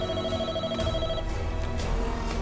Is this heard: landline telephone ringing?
yes